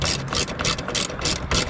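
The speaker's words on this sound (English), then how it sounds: "Put the bolts in. Just tighten them down." A hand ratchet tightens bolts on a Ford F150 tow mirror, producing close, loud rapid clicking in short rhythmic bursts of back-and-forth strokes.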